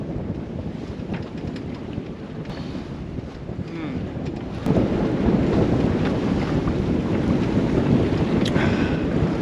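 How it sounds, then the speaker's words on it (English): Steady wind rushes and buffets the microphone aboard a sailboat leaving Beaver Island, with water noise beneath, growing a little stronger partway through; no one speaks. "Wind is getting a little lighter."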